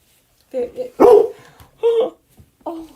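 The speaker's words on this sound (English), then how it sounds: "No, don't start barking" A dog barks a few times, short sharp yaps close by, with quiet gaps between them.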